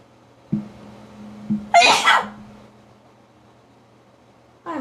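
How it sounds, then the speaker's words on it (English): A single sharp sneeze bursts out near the mic after a short quiet intake, then the room falls back to a low hum. "Hold on. Let me sneeze."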